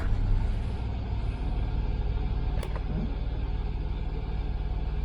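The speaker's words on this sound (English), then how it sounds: "if I start the car and turn the AC on" A Land Rover Discovery 3 with the 2.7 TD diesel engine idles with its air conditioning switched on, giving a steady, unbroken low drone and rumble throughout, with no talking.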